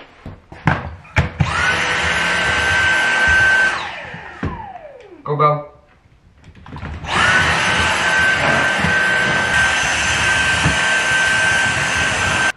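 A household vacuum cleaner runs in a steady whine, cutting off midway for a few seconds and then starting up again, with people speaking briefly near the start and during the break.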